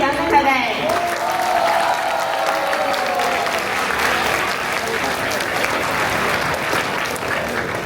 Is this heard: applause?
yes